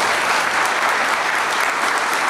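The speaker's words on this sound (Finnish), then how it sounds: "Annetaan aplodit." An audience applauds at an air-war history seminar, a thick, even wash of many hands clapping, steady and fairly loud throughout with no speech on top.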